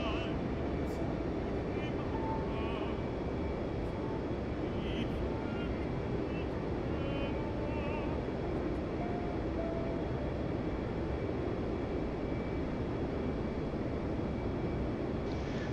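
An F-15 jet comes in to land in the DCS World flight simulator with a steady, dense engine drone that runs throughout, under someone talking.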